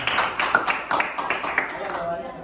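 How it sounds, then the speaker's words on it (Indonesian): A classroom group of students claps together in a brisk, uneven patter of applause, fairly close, lasting a couple of seconds. "Beri tepuk tangan dulu untuk kelompok naga."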